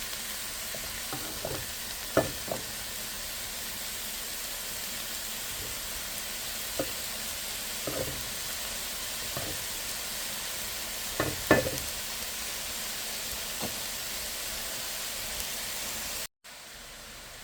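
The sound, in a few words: vegetables frying and being stirred in a pan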